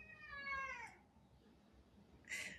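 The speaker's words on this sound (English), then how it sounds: "I'm sorry, my cat." Cat meowing indoors, one drawn-out descending meow followed after a pause by a shorter, sharper second meow, both fairly close over a quiet room background.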